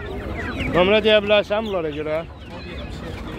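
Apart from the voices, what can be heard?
roosters clucking at a poultry market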